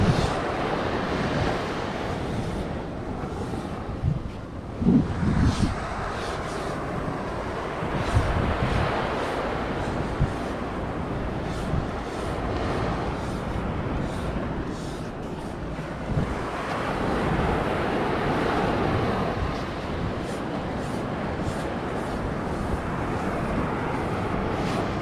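Steady surf and gusting wind on a hot, sandy beach in Alappuzha, Kerala, a continuous loud wash of breaking waves with wind buffeting the microphone and no talking.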